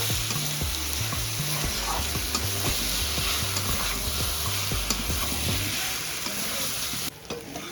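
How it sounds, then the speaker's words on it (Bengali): Spice masala for a Shankar (stingray) fish curry fries and sizzles in oil while being stirred, steady crackling with rhythmic scraping strokes throughout, close and fairly loud. "মশলাগুলো দিয়ে দিয়েছি দিয়ে ভালোভাবে একটু নাড়িয়ে চাড়িয়ে নেব"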